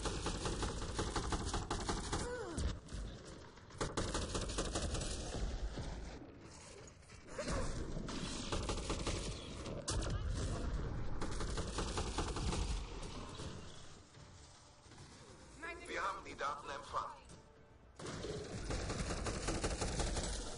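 Rapid, sustained gunfire in Mass Effect Andromeda multiplayer combat rattles in dense automatic bursts, with brief gaps between volleys, over a wavering background tone.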